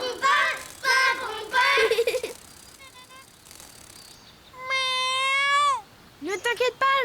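A cartoon cat gives a drawn-out meow, preceded by a voice and a faint squeak, with more high chirpy vocal sounds at the end; may be a voice imitating the cat.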